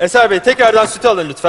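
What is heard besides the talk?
No distinct noise like a dog, phone or traffic.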